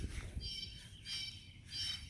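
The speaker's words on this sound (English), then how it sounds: "Birds here are quite vocal" Three bursts of chirping birdsong in a neighborhood in Ridgely, Tennessee, each about half a second long, over a low rumbling background.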